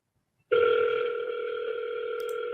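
Telephone ringback tone on an outgoing call to a real estate seller, a steady dual-tone ring starting after half a second of silence and holding loud and unbroken to the end, with no talk.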